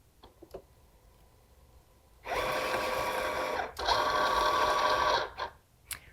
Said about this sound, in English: we're going to load this mat into the machine by sliding that up next to the pinch wheels and then hit load mat